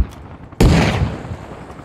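A grenade blast in Arma Reforger lands as one sudden, loud, close explosion with a rumbling tail, preceded by faint distant gunfire pops.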